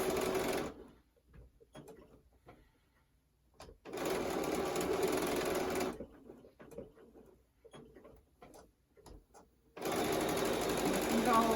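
A sewing machine stitches a quarter-inch seam on a small quilt piece in three loud, steady runs, with quiet gaps of soft handling noises and brief talk between them.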